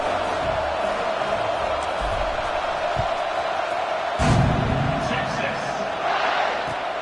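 Stadium crowd noise from an NCAA 26 college football video game against Texas, a steady murmuring roar with a brief louder swell midway, heard under ongoing commentary.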